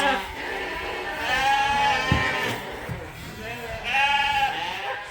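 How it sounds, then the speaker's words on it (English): Sheep and young ewe lambs bleat repeatedly inside a barn, several overlapping calls rising and falling close by, with a loud burst near the start and another toward the end; a person talks faintly underneath. "And we got a few ewe lambs in here too."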